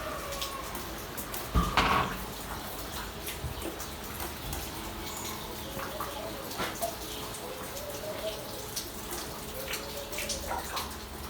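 Rain falls in a rural village setting, a quiet steady patter of drops on surfaces with scattered nearer splashes and one louder knock early on, and no voices.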